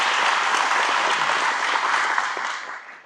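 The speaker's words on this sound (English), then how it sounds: "let's give him a round of applause of a thank you." Audience applause at a live local event, a dense, steady round of clapping heard alone that slowly fades toward the end.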